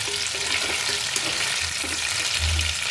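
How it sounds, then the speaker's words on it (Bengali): Marinated chicken pieces coated in soy and chilli sauce frying in oil, a continuous close hiss and crackle with low rumbling from the pan and stirring. "এবার এক এক করে আমি ভেজে নিচ্ছি।"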